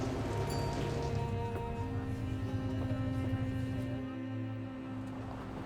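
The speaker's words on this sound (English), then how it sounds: "Nothing like rain to make this day even sadder." Rain falls outdoors near the Sachsenhausen memorial site as a steady soft patter and hiss. Low rumbling background noise runs underneath.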